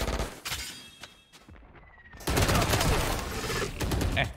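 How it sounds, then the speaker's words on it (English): Gunfire in the Valorant video game comes as dense, rapid bursts of shots, quieter early on and then loud and sustained in the second half, with brief talk underneath. "Why is he shooting like that?"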